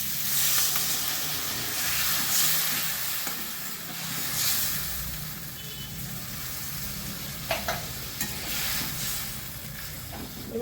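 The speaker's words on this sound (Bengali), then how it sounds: "মশলা কষানো হয়ে গেছে এবার জল দিয়ে দিচ্ছি" Water poured into a pan of fried spices for a cauliflower and rohu fish curry hisses and sizzles steadily, a loud frying crackle with a few sharp clinks from stirring.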